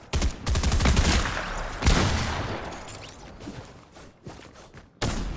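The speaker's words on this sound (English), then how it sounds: "Oh, I have a shotgun." Shotgun blasts in the video game Modern Mansion Gun-Game, a rapid cluster of loud close shots up front, another heavy blast near two seconds, scattered fainter reports after, then a final sharp shot at the end.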